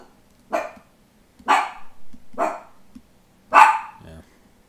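A dog barks four times in loud, separate bursts spaced about a second apart, with softer whining and yipping in between and faint rustling near the end.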